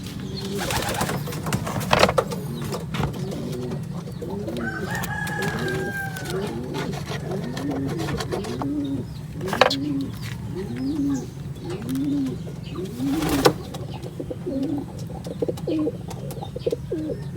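Racing pigeons coo repeatedly at close range in a loft, with soft rolling calls in a steady rhythm over a constant low rumble, broken by a few short sharp knocks.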